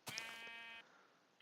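One quick Minecraft sheep bleat, close and distinct, cut off sharply and followed by near silence before a faint new sound begins.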